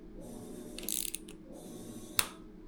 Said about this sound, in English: I didn't want to bore you guys with all the torquing I'm doing on this bike